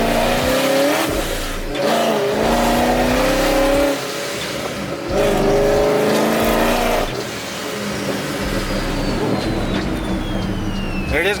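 Pontiac G8 engine revving hard in manual mode, rising and falling through repeated loud pulls with rough idle rumble between, close and dominant for the whole stretch.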